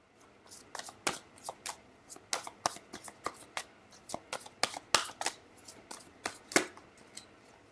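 Tarot cards are shuffled in quick riffling bursts, irregular crisp flutters close by, repeating many times with short pauses between.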